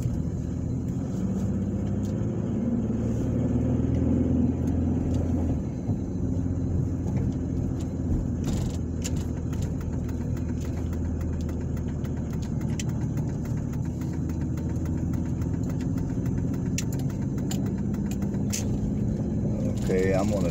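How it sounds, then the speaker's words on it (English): A car engine hums steadily while driving down a town street, a low continuous rumble with passing noise and a few clatters near the middle, and a voice talks over it at times. "I'm gonna drive down Newton Avenue, see what's going on Newton."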